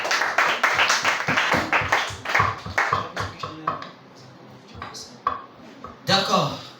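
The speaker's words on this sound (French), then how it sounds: "Acclamons très fort notre Dieu." A Sunday school congregation claps rhythmically and loudly, with voices calling out over the steady beat before it trails off into scattered claps.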